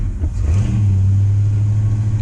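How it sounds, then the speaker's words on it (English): A 1964 Oldsmobile Super 88 engine runs close by, rising from a low idle into a steady, loud, deep drone that holds to the end, with no voices. "It's a 1964 Oldsmobile Super 88"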